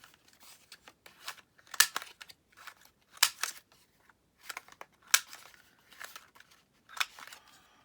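Scissors trimming the corners of paper, a series of separate sharp snips with brief pauses, some doubled cuts and light paper rustle between them.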